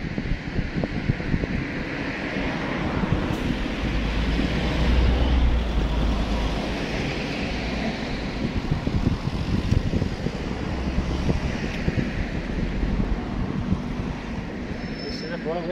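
Cold outdoor wind buffets the microphone in continuous low rumbling gusts on a public street, with faint traffic in the background throughout.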